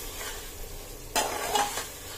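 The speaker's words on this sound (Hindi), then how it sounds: "भुने हुए चने में हम एक ग्रेवी ऐड कर लेंगे और अच्छे से हम भून लेंगे ये सारी चीज़ों को" Roasted chickpeas frying with gravy in a pan for chole, a soft sizzle under sudden scraping stirs of a spoon that come in short bursts in the second half.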